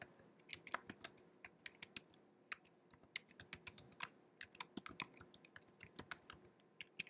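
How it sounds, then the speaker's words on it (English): Fingers tap quickly on a computer keyboard, an irregular stream of crisp close clicks in short flurries with small pauses, quiet overall against a silent background. "go ahead and type in your first name, your last name, and then your personal email address."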